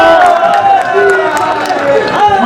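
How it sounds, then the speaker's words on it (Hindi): A live audience at a Hindi comedy poetry show gives a loud, dense burst of applause and cheering with crowd voices, sustained and close, over the whole stretch. "एक बार जोरदार तालियां बजा दो"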